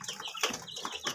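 Texas chickens cluck in a small backyard flock. Several soft, close clucks and chirps overlap in quick, uneven bursts.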